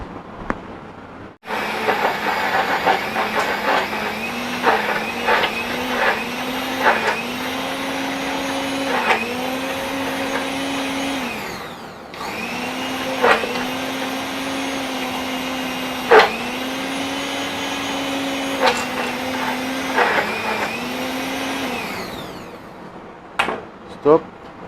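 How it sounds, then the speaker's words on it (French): An immersion blender whirs steadily for about twenty seconds while mixing chocolate cream, its pitch shifting slightly with brief pauses and clinks, under occasional talk. "Après, je vais mixer tout ça au mixeur plongeant."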